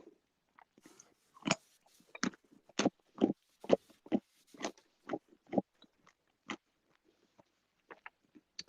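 A carrot dipped in crunchy mustard is bitten and chewed up close, giving a run of sharp, irregular crunches that taper into softer, sparser chewing sounds against near silence.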